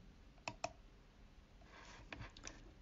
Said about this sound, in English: So click on the zoom in button